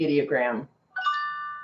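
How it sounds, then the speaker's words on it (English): A smartphone plays a brief two-tone notification chime that rings clearly in the background. It comes right after a voice speaks a word, indoors beside a board game. "And you can hear the little chime in the background. That's my phone telling me that play was pushed."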